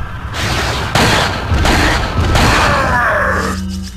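Loud gunfire and heavy booms erupt in Resident Evil 4, with several close bursts of shots, some mixed with grunts and groans, before the noise fades at the end.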